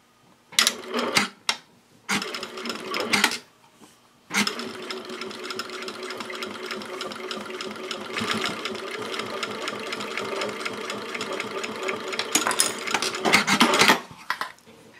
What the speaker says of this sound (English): Now sew straight across this binding here and backstitch at both ends